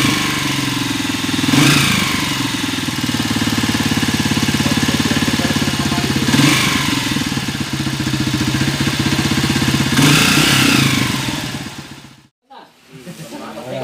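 A noisy motorcycle engine idling close and loud before repair, a steady rough chug with periodic revs and rattling clatter, then cutting out abruptly near the end.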